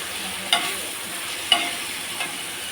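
Onion, tomato and ginger garlic paste are stirred as they fry on a dosa griddle, with a soft, quiet sizzle broken by three brief spatula scrapes.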